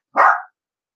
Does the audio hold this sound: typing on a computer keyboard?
no